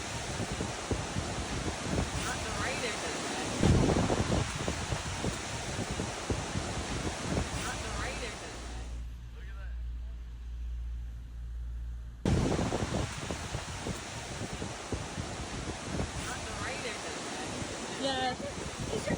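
Strong outdoor wind roars in loud, broadband gusts that buffet the microphone, with a brief low, muffled lull partway through.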